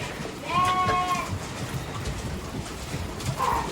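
A Merino or German blackhead sheep bleats once with a wavering, harmonic cry, followed later by a shorter bleat, over a steady background of rustling and munching as the sheep eat.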